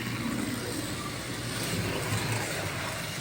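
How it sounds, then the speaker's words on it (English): A 1/32 Scalextric Aston Martin DB5 slot car runs on a Carrera race track, giving a steady, fairly loud electric whine and rolling rumble that holds level throughout. "there goes the Aston Martin DB5 in race numbered"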